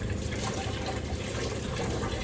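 Water poured into a 2-litre bottle while making a Rasna drink, a steady continuous gushing fill lasting throughout, fairly close and unbroken, with no talk over it.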